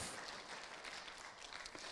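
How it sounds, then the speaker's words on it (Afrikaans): Congregation clapping and applauding together at a church service, a dense sustained wash of many hands across the whole stretch, fairly distant and even in level. "Gee vir die Here 'n lekker hande klap"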